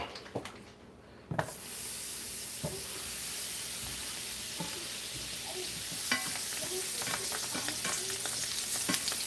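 Butter sizzles and fries steadily in a very hot pan for searing steak, a loud continuous hiss with scattered crackles and pops that grow busier toward the end, no talking.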